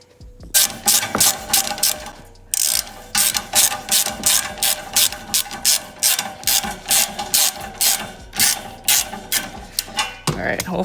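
A ratchet wrench loosens the exhaust silencer bolts on a Can-Am Outlander 1000 ATV, giving close, loud bursts of rapid clicking strokes repeated steadily with brief pauses between them and no voices.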